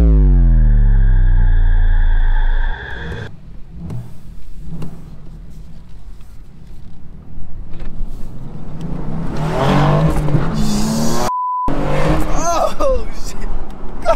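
A 2017 BMW M3 in Sakhir Orange with a manual clutch, its engine droning loud and close, a steady throaty run at the start giving way to revving and acceleration as people talk over it.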